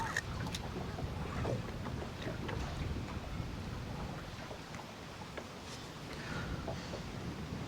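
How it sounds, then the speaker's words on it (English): Strong wind buffeting a microphone outdoors while fishing, producing a steady low rumble with gusty swells and faint water noise throughout. "this wind is pretty tough"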